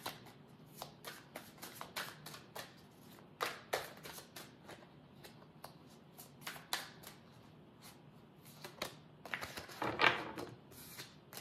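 A deck of tarot cards is shuffled by hand in repeated quick riffling bursts, close and crisp, with short pauses between shuffles and a louder flurry near the end.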